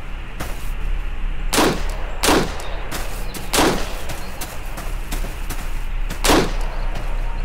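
Gunshots in the video game Stay Out, sounding as four loud, sharp single shots spaced about two seconds apart over a steady low ambient hum.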